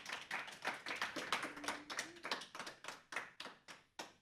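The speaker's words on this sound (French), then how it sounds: "On peut l'applaudir, s'il vous plaît." A small group claps at a youth careers presentation, quiet and somewhat distant, with irregular overlapping claps forming a sparse patter that thins toward the end.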